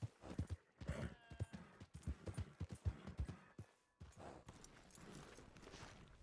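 A horse trots in a video game, hooves thumping in a quick uneven rhythm before stopping, followed by a softer, muffled stretch with faint background sound.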